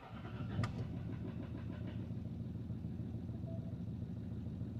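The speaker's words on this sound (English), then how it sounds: "let me start it and let you listen to this beautiful V6 engine" A Jaguar XF's V6 engine cranks with a brief burst, then settles into a steady, rumbling idle that continues close by, low and constant with no talk. The engine is noted as having a fault.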